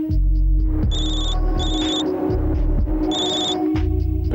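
A phone call's ringing tone, with bursts of high electronic trilling repeating in a steady pattern over a loud, continuous low hum.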